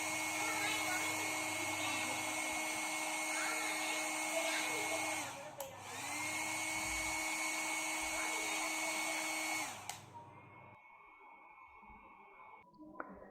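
A Philips HP8100/46 hair dryer runs at a low setting, a steady close whirring blow with a tonal whine that briefly dips mid-way, then shuts off, leaving quiet room sound.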